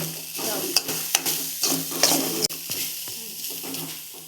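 Grated coconut fries in a pan, browning for a shark curry, with a steady hiss and sizzle while a spoon stirs and scrapes. A few sharp knocks against the pan cut through, close and fairly loud, with no voices.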